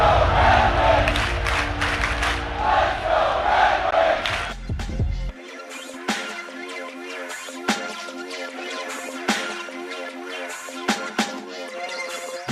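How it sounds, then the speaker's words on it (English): A crowd at a hockey arena during an NHL prospect tournament game between the Detroit Red Wings and Columbus Blue Jackets roars loudly and chants, then falls to quieter chanting and cheering with sharp bangs through the second half. "Listen to this crowd."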